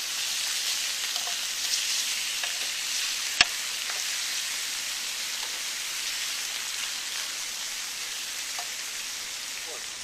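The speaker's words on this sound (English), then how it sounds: "I'm gonna lightly fry this. Just pork chops" Pork chops, skin cut off and fat left on, bashed flat and lightly fried outdoors by a river, hiss in a soft, even sizzle with one sharp click partway through.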